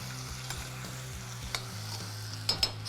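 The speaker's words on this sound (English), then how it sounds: "Let's give this a nice stir." A spoon stirs a seasoned tomato mixture in a pan, soft repeated scraping strokes over a quiet steady sizzle, close and fairly faint.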